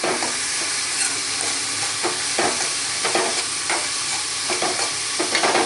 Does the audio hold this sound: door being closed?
no